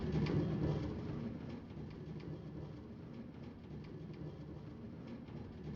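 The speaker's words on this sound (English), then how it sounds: "Place a minecart with chest under the hoppers." A minecart with chest rolling along powered rails in Minecraft Bedrock, heard as a steady, moderately loud rumbling clatter that carries on throughout with no talk.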